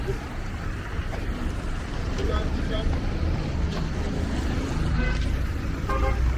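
Dense street traffic in the Abobo Derrière Rails neighborhood of Abidjan, Côte d'Ivoire: a steady roar of engines with several short car horn toots scattered through it, while someone talks in the foreground.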